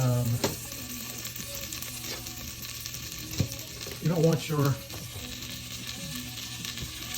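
Butter and flour roux sizzling and frying steadily in a pan as the base for a bechamel sauce for baked mac and cheese, with a few louder stirring scrapes partway through.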